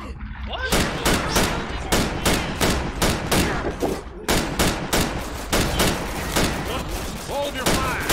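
Gunfire in the zombie shooter Left 4 Dead 2: rapid, loud bursts of shots in repeated volleys with brief pauses, and voices shouting in between.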